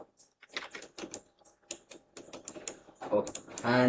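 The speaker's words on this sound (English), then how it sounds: "press S once again on your keyboard." Computer keyboard keys being pressed during 3D character animation work, a series of sharp, close clicks and taps with a louder burst of activity near the end.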